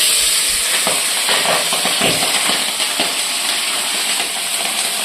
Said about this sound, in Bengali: তো এখন পাবদা মাছগুলি ভেজে নিই।